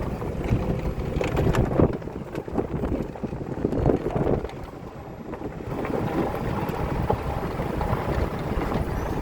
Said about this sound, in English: Somebody taking a boat out.